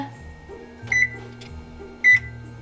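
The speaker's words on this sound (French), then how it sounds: "première étape, préchauffer le four à 350" A kitchen oven being set to preheat to 350 while making gingerbread cookies gives two short electronic beeps about a second apart, clear and close over a low steady hum.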